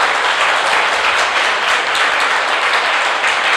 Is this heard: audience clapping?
yes